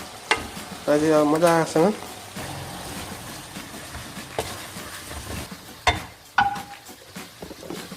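Chicken curry frying with masala in a home kitchen pan, a steady sizzle with stirring scrapes and a few sharp utensil knocks, while a person talks over it.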